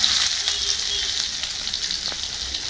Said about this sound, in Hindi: अभी भात ला फ्राई करवाता हूँ